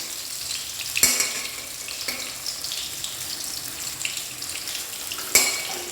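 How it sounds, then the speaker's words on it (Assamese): Pieces of rohu fish fry in hot oil in a pan, giving a steady close hiss with a few sharper crackling bursts and light stirring clatter, with no voices. "সেয়া মাছটো ভাজি আছোঁ দেই।"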